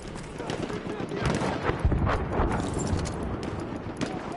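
Horse hooves clip-clopping in a war video game, mixed with rattling gunfire and distant battle noise, with voices calling out in the background.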